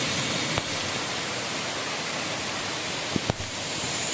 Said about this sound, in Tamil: இந்த பக்கம் அருவி சத்தம், இந்த பக்கம் மழை சத்தம்